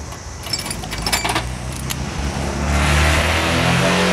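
A BMW engine rumbles nearby and grows louder toward the end, a deep exhaust drone with some light metallic clinking early on.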